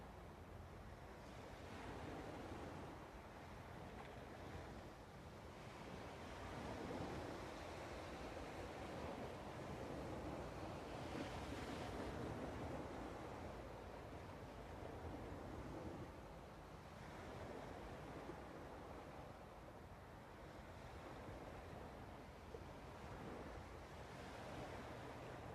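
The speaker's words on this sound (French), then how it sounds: "vous laisser bercer par ces vagues, par ce mouvement" Ocean waves roll in and wash out in slow, repeated surges, a soft continuous roar of surf rising and falling at a distance with some wind, no voices.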